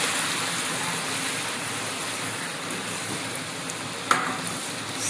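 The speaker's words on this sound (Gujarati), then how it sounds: "આદુ લસણની જે આપણે મરચાંની પેસ્ટ બનાવી હતી એ નાખી અને એને બરાબર હલાવી દઈશું" A ginger, garlic and chili paste fries in a pan with bay leaf for pav bhaji, giving a dense, even hiss like light rain that is steady and close, with one brief clink near the end.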